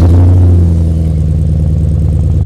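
A BMW E39 M5 V8 engine runs loud and close, a deep steady rumble with a brief rev at the start that settles into an even, throbbing idle, then cuts off abruptly near the end.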